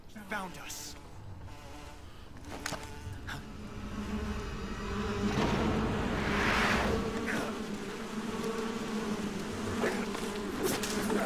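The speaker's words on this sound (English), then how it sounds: "The bees!" Insect buzzing from bees in Metal Gear Solid 3: Snake Eater, a steady droning swarm that swells louder midway and holds, with game music and effects mixed underneath.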